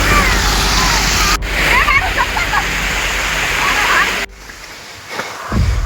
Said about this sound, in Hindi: स्टेप से के ऊपर से पानी जाता है